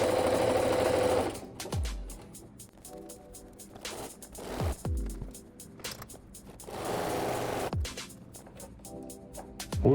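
A sewing machine stitches jersey fabric for a minimalist T-shirt, running in a rapid rhythmic chatter through several bursts with short pauses, close and fairly quiet.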